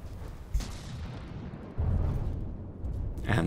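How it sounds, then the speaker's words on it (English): Mortars firing on a battleship in From the Depths, a series of muffled, distant booms and rumbling impacts over a low, steady roar, with a sharper thump near the start and another near the end. "And there we came down with some mortars."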